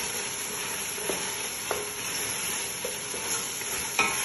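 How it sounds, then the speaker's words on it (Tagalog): Shrimp stirred in a frying pot for a Filipino-style shrimp kabsa, a constant sizzle under several sharp scraping strokes of the utensil, close up with no voices. "Okay, add ko na itong sherm. Mix ko lang siya ng konti."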